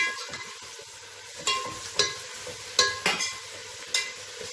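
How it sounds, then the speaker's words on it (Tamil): Mint and coriander leaves sautéing in oil for a Tamil mutton dish give a soft, steady sizzle, broken by several sharp stirring scrapes and clatters spaced through the clip, close and moderately quiet. "எண்ணெயிலே வந்து புதினாவையும் கொத்தமல்லியும் சேர்த்து வதக்கிக்கலாம்"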